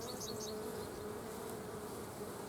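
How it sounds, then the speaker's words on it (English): Honey bees crowd in a hive around a piece of wood carrying their queen, making a faint, steady buzzing drone that holds evenly from start to finish. "boy, them bees ran to it"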